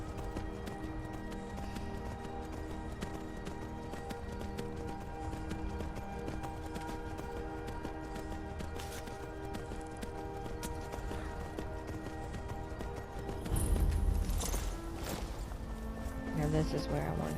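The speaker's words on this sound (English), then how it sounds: "this is where I wanted to get off my horse" Steady clip-clop of horse hooves trotting in Skyrim, beneath a layer of background music and a voice, with a brief louder burst near the end.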